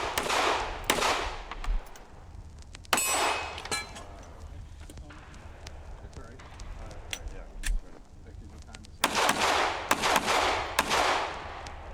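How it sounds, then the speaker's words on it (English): Sharp gunshots crack at a scenario-based league action shooting event at a gun club, a handful of loud irregular reports and a quick cluster near the end, heard under a narrator's steady voice. "A scenario-based league action shooting event being conducted at a gun club"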